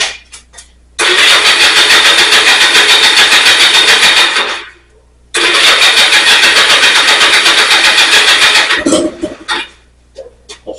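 An engine-swapped three-wheeler cranks and catches, running loud and rough for several seconds, stops, then fires again for another long run before sputtering out into a few clanks.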